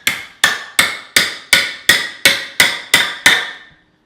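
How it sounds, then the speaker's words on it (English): Nine sharp, evenly spaced hammer blows drive a broken knife blade down into wood while building a cockatiel bird stand, each strike close and loud with a short ringing decay, heard alone without talk. "That's a broken knife, and you hammer it down."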